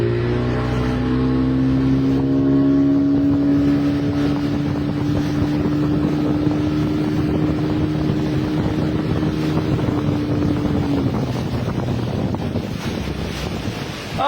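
A motorboat engine drones steadily and loud at sea during a rescue of migrants in the Mediterranean, with heavy wind buffeting the microphone and waves washing beneath the constant engine tone.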